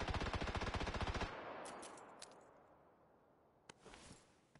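A single rapid automatic-weapon burst rattles loudly in a video game for over a second, then cuts off into a fading echo. A few faint distant shots and a brief scuffle follow, with no talking.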